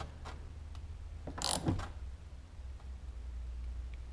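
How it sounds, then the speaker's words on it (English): A hand ratchet tightens an aluminum AN fitting on the bottom of a 4.5-gallon IMS dry-break fuel tank for a Husqvarna FE 501s Baja build, giving a short burst of quick metallic clicks up close over quiet background. "I'm using the head of the ratchet"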